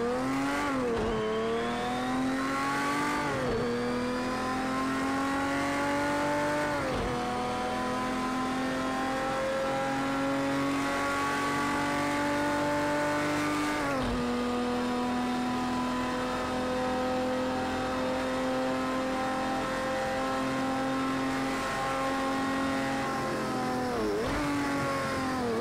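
Race car engine in Project CARS 2 revving high and dropping sharply as it downshifts under braking several times, then climbing again, loud and steady throughout with no talk.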